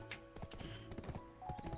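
Horse hooves clip-clop in the online game Black Desert Online, a quick faint rhythmic run of hoofbeats that continues through the short stretch with no talking.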